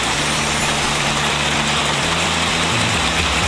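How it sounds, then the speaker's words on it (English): Hail pummeling down in Arkansas in the morning, a dense, steady roar of constant drumming that is loud and unbroken throughout, with a low rumble beneath it. "that's the sound of pummeling hail"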